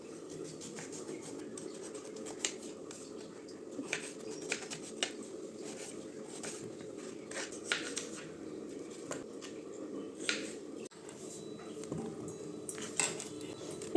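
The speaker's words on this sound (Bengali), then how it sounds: "এই যে কেটে নিচ্ছি একটু পেঁপে, এগুলো সব পেঁপেগুলোকে ছুলে নিয়েছি" A knife cuts peeled papaya on a board in a home kitchen, giving repeated light taps and scrapes at an irregular pace, close and fairly quiet over low background hum.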